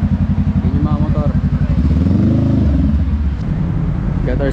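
Several motorcycles idle at a Shell gas station meet-up, a loud, close engine throbbing in quick regular pulses that swell slightly midway.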